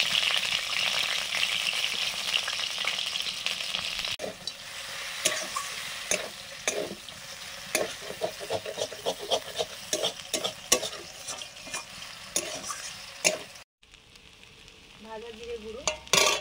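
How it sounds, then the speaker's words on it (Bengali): Potatoes coated in salt and turmeric fry in mustard oil in a pan. Loud, continuous sizzling is broken by repeated scraping stirs, and the sizzle dips briefly near the end. "আলুগুলো ভেজে নেব। আলুগুলোতে নুন হলুদ মাখিয়ে দিয়েছি।"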